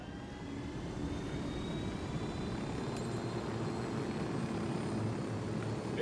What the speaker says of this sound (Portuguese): Opa, tem um helicóptero aqui da hora